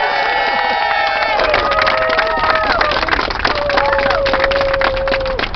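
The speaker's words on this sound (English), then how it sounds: "let's give Gabby another great round of applause" A political rally crowd cheers and applauds, loud whoops and shouted calls riding over a dense roar of clapping, with voices rising and falling throughout.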